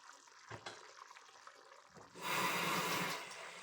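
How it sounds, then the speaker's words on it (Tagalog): Water poured into a pot of sautéed pork with tomatoes, a loud rushing gush that starts after a couple of quiet seconds of kitchen clatter and runs steadily to the end. "So now, lalagyan natin siya ng tubig."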